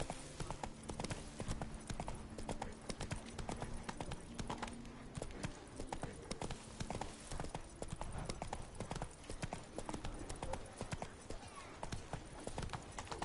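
Rhythmic clip-clop of horse hooves at a steady gait while riding in a video game, continuous and fairly close, with a voice speaking briefly over the hoofbeats.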